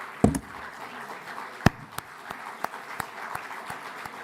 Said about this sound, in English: Yeah, they deserve your applause.